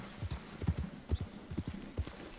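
Horse hooves clip-clopping in a video game, a brisk, irregular run of soft thuds at a steady trotting pace, fairly quiet with no voices over them.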